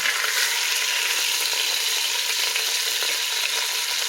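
A roast browning in an Instant Pot, a loud, steady, close sizzle of searing meat that holds evenly throughout with no voices.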